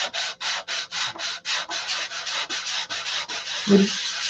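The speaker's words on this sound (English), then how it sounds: "I'm sanding this center section." Rapid rhythmic back-and-forth hand sanding with 320-grit sandpaper, a dry scratchy rasp repeating steadily about four times a second, close up, with one small knock near the end.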